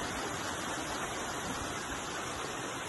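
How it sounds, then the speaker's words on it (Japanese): Small stream flowing through a forest, a steady dense rushing and babbling of water that holds unbroken and fairly even throughout, close by with no voices. "小川が流れていて、この川のせせらぎをもうここで何年も何年も聞き続けてきました。"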